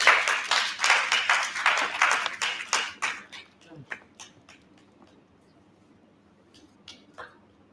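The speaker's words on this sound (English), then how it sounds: "A warm round of applause" An audience at a national science conference gives a round of applause, lively at first and then thinning to scattered individual claps that fade out.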